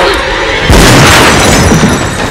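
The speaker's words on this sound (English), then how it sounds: "That shotgun kickback sent her flying." A double-barrel shotgun fires in a film scene as a loud, close blast with a broad, rumbling burst and a noisy tail that fills the moment, while a voice sounds briefly underneath.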